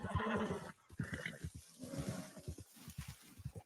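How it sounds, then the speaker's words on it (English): A bear roars in a video game, a rough growling bellow that rises and falls in several loud bursts over a few seconds, close and with no speech over it. "what was that? Oh, it was a bear."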